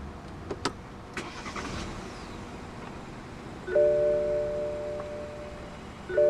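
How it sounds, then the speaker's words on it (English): A 2014 BMW X3 xDrive20i is push-button started: a few faint clicks, then the engine catches and settles into a steady, moderately quiet idle with a tonal hum. "Put your foot on the brake and press the start button to the left of the steering wheel."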